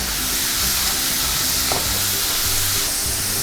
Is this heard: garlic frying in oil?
yes